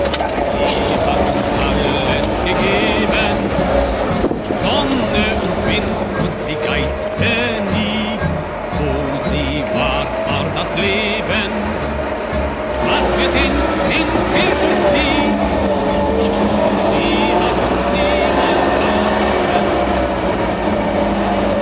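A Wartburg 353W Tourist pulls away in first gear, its engine a loud, continuous, busy drone with rattling and road roar throughout, heard from inside the car.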